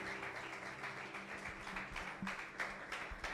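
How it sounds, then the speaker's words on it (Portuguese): A church congregation applauds during a worship service, a faint, continuous spread of many hands clapping, heard from a distance and without talking. "aplauda Jesus"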